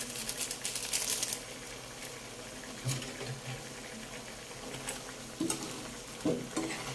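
Pork adobo with potatoes and soy sauce is stirred in a pan, with a soft continuous sizzle under repeated scraping and clattering strokes of a utensil, some louder knocks standing out.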